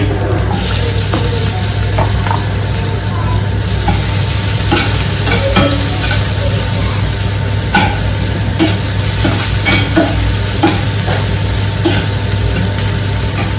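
Onion and garlic fry in a pan for a wild-vegetable curry. A loud, constant sizzle sits over a low steady hum, with scattered clinks and scrapes of stirring. Nobody speaks.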